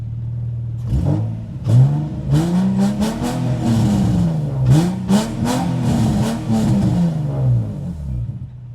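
A drift car engine cranks and catches, then revs repeatedly in loud, close bursts that rise and fall in pitch over several seconds, with no talking.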